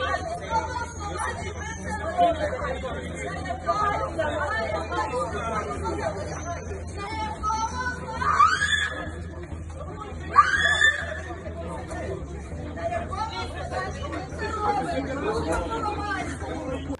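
Crowd of women praying and wailing as police move in outside church buildings at the Kyiv Lavra, a dense babble of voices with cries and shrill wails rising in bursts, moderately distant.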